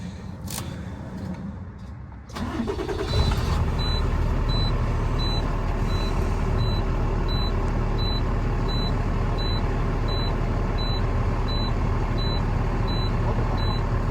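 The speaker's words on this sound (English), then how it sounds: "So we're gonna start the truck." A heavy truck with a leaking air dryer purge valve cranks and fires up, then settles into a loud, steady idle while a high warning beep repeats at an even pace as air pressure builds.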